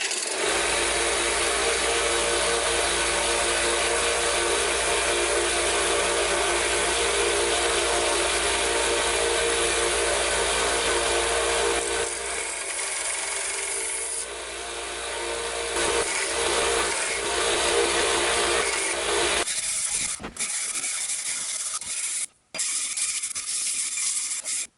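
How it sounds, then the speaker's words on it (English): A heat-treated steel knife blade being hand sanded, a continuous, close, gritty scraping that runs loud and steady for most of the clip before turning patchy and stopping in broken strokes near the end; nobody speaks. "Now it's time to hand sand it and get it looking nice and shiny."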